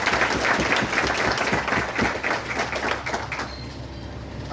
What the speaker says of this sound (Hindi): मैं चाहूंगा कि उनके लिए जोरदार तालियां हो।